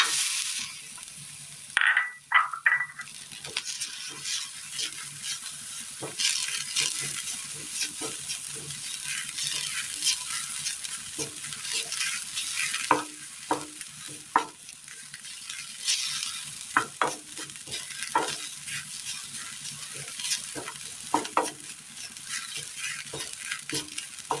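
Grated coconut and carrot sauté in a pan, giving a continuous close sizzle with frequent spatula scrapes and metallic taps against the pan throughout, and no voices.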